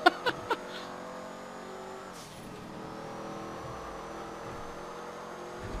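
A car engine in GTA Online hums steadily as a long-kept vehicle drives around Los Santos, following a few short sharp knocks at the start, with a faint pitch shift partway through.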